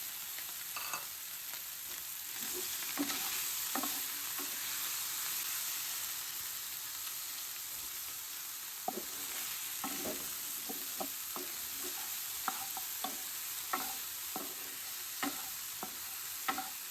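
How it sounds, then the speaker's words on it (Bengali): Cheese meatball bread frying in hot oil, a continuous close sizzle and hiss for the whole stretch, broken by scattered sharp crackles and stirring clicks, with no talk. "তো গাইস এটাকে আমরা ভাজে নিচ্ছি"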